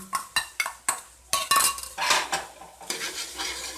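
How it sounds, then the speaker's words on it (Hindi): A metal utensil stirs beaten eggs with vegetables in a pan, giving repeated sharp clinks and scrapes against the pan in an uneven rhythm, close and loud, with no speech. "इस तरह आपने इसको तमाम सब्जियों के साथ अंडों को मिक्स करते जाना है"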